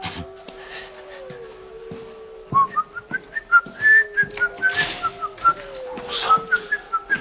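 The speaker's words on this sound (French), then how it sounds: "c'est quelqu'un qui siffle alors" A person whistles a wandering melody, the notes rising and falling with short pauses, over a quiet background with occasional soft knocks.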